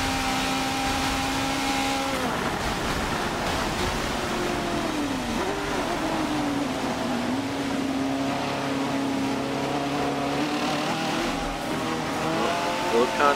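Race cars in a professional league event roar at high revs through a lap, engine pitch dipping and climbing with shifts, loud and continuous with faint tire noise.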